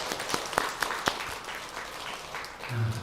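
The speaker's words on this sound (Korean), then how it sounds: "한번 박수 한번 치시죠." A few sharp claps ring out and give way to a soft patter of applause from an audience of Buddhist temple devotees at a dharma talk, fairly faint and brief, with a low voice near the end.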